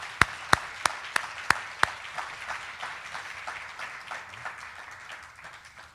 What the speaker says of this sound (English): Let's give our scholarship recipients a big round of applause.